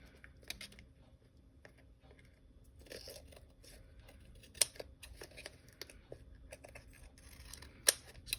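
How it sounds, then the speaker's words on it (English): Scissors trim ribbon on a craft project, a few quiet, sparse snips and small clicks close by in an otherwise hushed room. "Trimming some of that ribbon."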